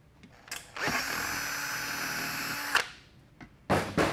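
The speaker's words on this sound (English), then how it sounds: "So what we'll do, we'll take a drill bit." A power drill bores a hole through a transmission valve body plate with a drill bit, one steady high whine lasting about two seconds, then short clicks and a final brief burst.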